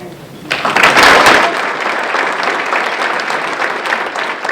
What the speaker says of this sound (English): How about a nice applause for our DOT State District winners?